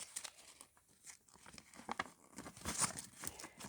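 Plastic and cardboard packaging around a 2022 Thomas and Friends Wooden Railway Emily and Rebecca toy set is cut open, giving a close, soft run of crinkling and tearing with no one speaking.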